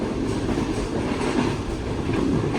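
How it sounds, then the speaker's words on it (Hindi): Shah Hussain Express passenger train running at speed on the Karachi–Lahore line, a steady loud rumble with continuous clattering wheels and rail noise throughout, no voices. "भाई कुछ इस तरह की स्पीड है ट्रेन की।"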